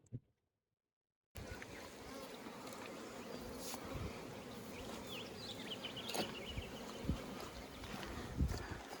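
Honeybees buzzing around honey frames during honey extraction in a shed, a steady droning hum at moderate level with occasional louder passes of individual bees, plus faint background handling noise.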